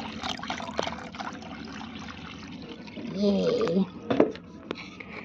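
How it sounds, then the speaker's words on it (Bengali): Water poured onto dry soil in plant pots, a brief gurgling trickle and splash in the middle of the clip, close by, with a person talking throughout. "ভালো করে জল দিই।"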